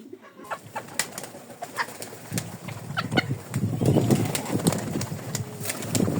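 Pigeons coo in low, soft repeated calls close by, mixed with wind buffeting, rustling and occasional handling knocks.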